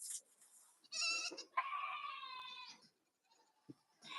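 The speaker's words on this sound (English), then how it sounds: "Cheerio has the most distinctive scream of all of the goats" A goat named Cheerio on a goat farm lets out loud, ragged screams, two long wavering bleats close by, followed by quiet rustling and a short final cry.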